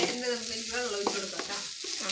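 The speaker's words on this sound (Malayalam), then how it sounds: "കുറച്ച് വെള്ളം ഒഴിച്ച് കൊടുക്കാം" Water poured into a hot frying pan sizzles steadily as the food is stirred, with soft scraping and a few clinks from the utensil. The sound stays close and even, with no talk.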